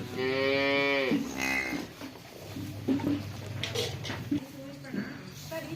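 A cow gives a long, deep moo up close, then a shorter second call, followed by people talking over soft farmyard noise.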